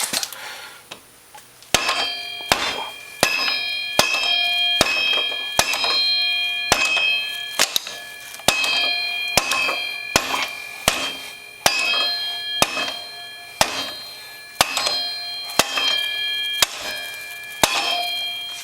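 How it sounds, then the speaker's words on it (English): A rubber hammer strikes metal again and again in an uneven rhythm, tapping out a rear carrier part on a Warrior, each blow ringing out with a bright, lingering metallic clang. "Need to tap it out of there. I was using a rubber hammer."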